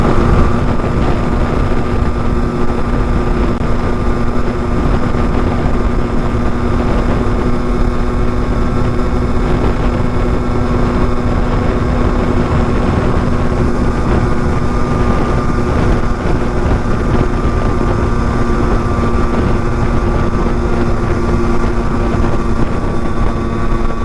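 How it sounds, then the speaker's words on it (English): A two-stroke motorcycle engine runs at a steady, loud drone while riding toward a causeway, with wind buffeting the microphone and no speech. "clearly because of the two-stroke sound you can hear"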